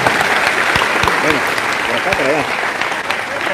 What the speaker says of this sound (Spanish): aplauso fuerte que se oiga para estos hermanos